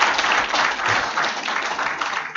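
Dense audience clapping at an award ceremony, continuous and fairly loud from many hands throughout.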